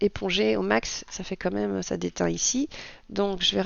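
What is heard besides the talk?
No everyday noise stands out behind the speech.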